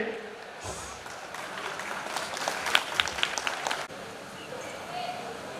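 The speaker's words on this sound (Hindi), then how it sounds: "इनका तालियों के गड़गड़ाहट से स्वागत करेंगे" A crowd at a Rajput community oath-taking ceremony breaks into applause for a few seconds, a dense burst of clapping that swells and then cuts off, with murmuring around it.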